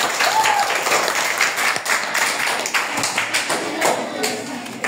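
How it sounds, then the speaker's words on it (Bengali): Classmates in a school classroom clap loudly for two students, a fairly close, uneven patter of hands with a few sharper taps and knocks, fading slightly in the middle before picking up again. "এই 2 জনের জন্য জোরে করতালি হবে।"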